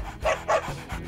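Two short excited yelps or whimpers from young dogs, close by, with soft panting between them.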